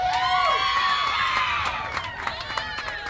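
A softball team cheers and shouts for a teammate winning an award at an outdoor gathering, a burst of excited voices and whoops that stays loud and then thins out.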